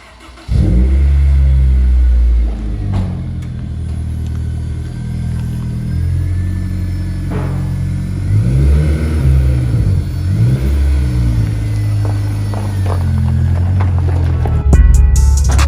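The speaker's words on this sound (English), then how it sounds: "We're gonna go rip it down the road." A Scion FR-S, salvaged and heavily modified, starts and revs, then drives off down the road with loud engine rumble rising and falling through several gear pulls, recorded close from inside the car.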